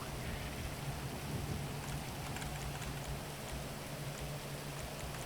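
Steady heavy rain hisses throughout with low rumbling thunder rolling underneath, a dense continuous storm with no voices, in the video game GTA Online.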